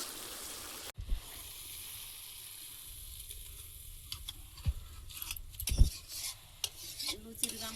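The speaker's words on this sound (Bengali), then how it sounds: "এবার টমেটোটা ভালোভাবে মশলার সঙ্গে কষিয়ে নেব" Tomato being stir-fried with spices in a pan for ghugni, close stirring and scraping of a utensil against the pan over a soft sizzle, with clinks and knocks growing busier toward the end.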